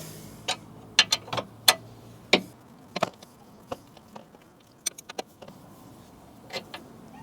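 An 18mm wrench works a bolt loose underneath a GMT800 truck with scattered metallic clicks and ratchet-like ticks, some close and sharp, some faint, over a quiet background.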